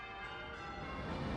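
Church bells ringing in a city, heard as a continuous wash of overlapping resonant tones, fairly faint and sustained throughout, with no voices.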